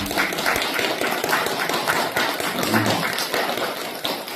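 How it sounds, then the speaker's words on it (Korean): Steady applause from a crowd gathered for a Buddhist bodhisattva precepts ceremony, dense continuous clapping at close range lasting several seconds without pause. "박수 한번"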